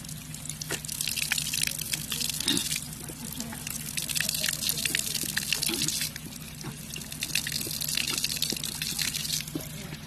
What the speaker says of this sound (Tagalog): Yan ang natural water.